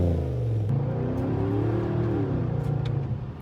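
A BMW X5 4.6is V8 engine revs up close and alone, its deep rumbling note swelling and sweeping in pitch before easing back down.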